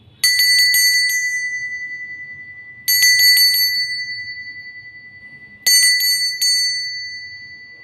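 A small bright bell is struck in three quick bursts of several rings each, spaced a few seconds apart, each cluster ringing out clearly and fading slowly over a quiet background.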